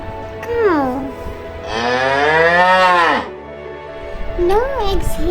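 A voice imitates a cow's long, loud moo in a read-aloud farm story, a drawn-out lowing call that swells for over a second, with a narrator's talk just before and after it.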